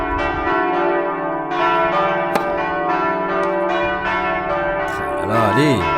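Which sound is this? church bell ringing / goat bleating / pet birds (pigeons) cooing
church bell ringing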